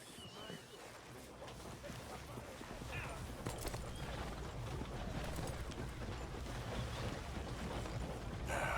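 Horses' hooves clop on the ground in Red Dead Redemption 2, a steady rhythmic patter of several horses moving, fairly faint under ambient noise and game sounds.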